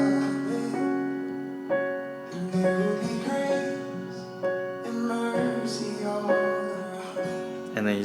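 Keyboard chords on the 1 and 5 of a song, played as sustained struck chords in a steady rhythm, each change marked by a fresh attack, close and moderately loud with no talking.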